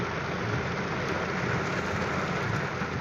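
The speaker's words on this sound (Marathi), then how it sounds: "फुल पाऊस चालू आहे" Dense, steady broadband hiss of heavy rain pouring without a break, loud and close, with no voices.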